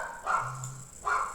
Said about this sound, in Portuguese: tomara que vocês estejam escutando o cachorro latindo também